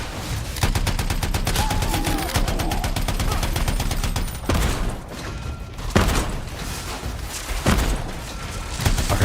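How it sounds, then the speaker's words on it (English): Rapid gunfire rattles from a weapon in Anthem, a fast run of repeated shots followed by several heavier booming blasts spaced a second or two apart, loud and close. "Now my shotgun feels so underpowered."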